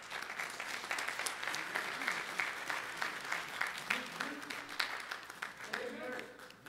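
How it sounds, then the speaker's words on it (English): A church congregation at a Sunday service claps for the choir in loud, sustained applause, with a few voices mixed in. "Let's give this great choir a round of applause."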